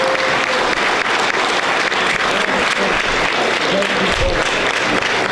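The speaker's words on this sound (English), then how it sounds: "Round of applause for Ευριπίδης and Ευαγγελία Κοντός." Dense, steady applause fills a hall at a special evening honoring a philanthropic family, loud and continuous throughout with murmured talk mixed underneath.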